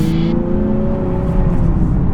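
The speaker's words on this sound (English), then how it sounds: "you can hear a bit of engine note when you do push the car" A Nissan 370Z 50th Anniversary Edition accelerates from inside the cabin, its engine note rising as a steady, fairly loud drone with tyre and road noise and no talking.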